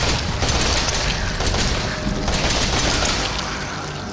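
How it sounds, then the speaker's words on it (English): Machine gun in Resident Evil 7 firing continuously, loud dense automatic rattle with booming low rumble throughout, slowly easing toward the end. "I have a machine gun now."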